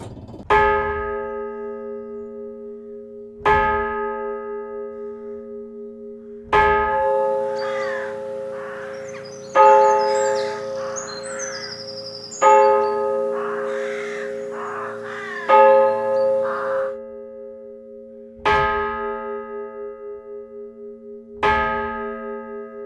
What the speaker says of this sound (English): presume that must have came from that bell up there, which I believe is the clock bell